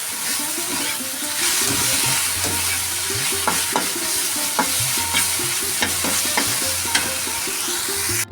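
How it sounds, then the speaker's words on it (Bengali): Jute leaves (pat shak) are stir-fried with spices and green chilies in a pan, giving a steady sizzle with repeated scraping and clinking strokes of a spatula against the metal pan, close and fairly loud. "মশলার সাথে ভালো মতো শাকটা করে নিলাম"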